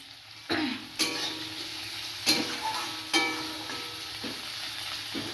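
Potatoes fry in hot oil in a pan for biryani, a close, steady sizzle broken by several sharp bursts of crackle and stirring.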